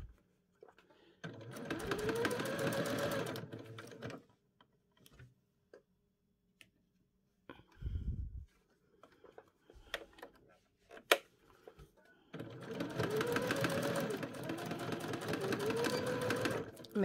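Sewing machine stitching a bodice lining, running in two sustained close bursts separated by a stretch of quiet handling, clicks and a brief low thump.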